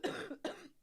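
Two quick, harsh coughs close to the microphone, the second following right after the first, with no talk around them.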